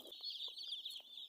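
Day-old broiler chicks in a brooder warmed by charcoal burners give a steady, dense chorus of high peeping, continuous and fairly faint, with no talking.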